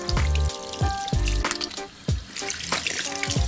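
An electric shaver runs under water, its steady buzzing hum broken by repeated splashing bursts as it is dipped and moved, with no talking.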